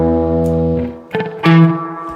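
Roland RE-201 Space Echo plugin set to head 1 echo with reverb, processing sustained harmonic tones that shift pitch, with short repeats and a reverberant tail blurring each change; loud and close, no talking.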